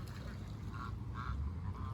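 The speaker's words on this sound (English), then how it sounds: "And then also you got the ducks over here." Ducks at a park pond give a few faint, short quacks about half a second apart, rising above a low murmur of outdoor background noise.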